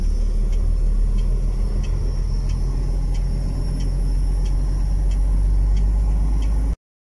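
A truck drives and turns. A steady, loud low engine rumble and road noise continue for about seven seconds, with faint regular ticking above, then cut off abruptly. No one speaks.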